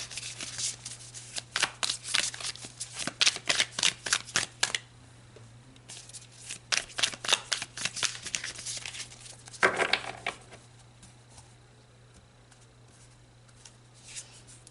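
Tarot cards being shuffled by hand, a run of quick crisp riffling bursts in several clusters with pauses between, close and fairly quiet over a faint steady hum, no speech.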